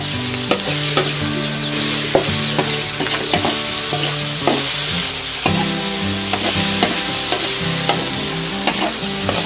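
Mushrooms and shallots stir-frying in a pan at home: steady loud sizzling with repeated scraping and clacking of a spatula against the pan, no voices.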